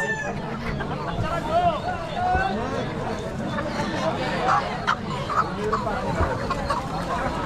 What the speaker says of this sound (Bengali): এই বাজারে পাইকারি এবং খুচরা উভয় ধরনের কিন্তু দেশি মোরগ মুরগি বিক্রি করা হয়